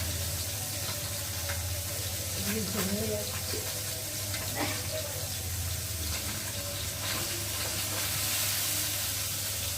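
Fish fries in a pan with a continuous soft sizzle, joined by a few scraping clinks of a utensil, fairly quiet and close, with no talking.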